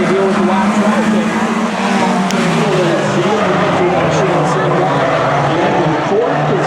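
Race cars roar down the front straight at a racetrack, a loud continuous engine drone that rises and shifts in pitch as the cars pass, with a commentator talking over it.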